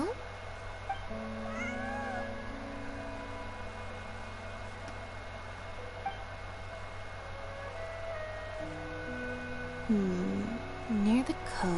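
A cat meows in the game Genshin Impact during a hangout quest, several short rising mews near the end over background music and ambience.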